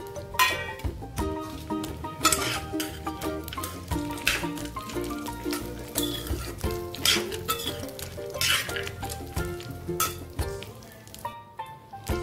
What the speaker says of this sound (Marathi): आणि ड्रायफ्रूट्स आणि तेलात भाजून थोडेसे शॅलो फ्राय करून घेऊया।